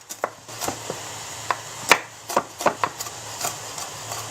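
Walnuts being chopped with a knife on a board for a walnut and basil spaghetti, a handful of sharp, uneven chops close by with short gaps between them.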